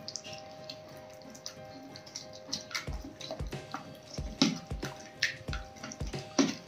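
Wheat flour batter with curd and water being stirred smoothly in a bowl: irregular wet clicks, slaps and squelches that grow louder and more frequent midway, close by, with no talking.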